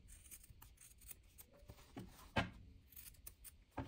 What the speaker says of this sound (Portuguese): Vou cortar esses cantinhos na diagonal para não ficar grosso na hora que eu desvirar.